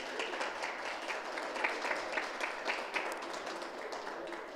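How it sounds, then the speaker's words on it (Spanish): An audience applauds at a dance circuit event in El Alto, a fairly quiet, distant patter of many hands clapping steadily with no talk over it. "Fuerte el aplauso."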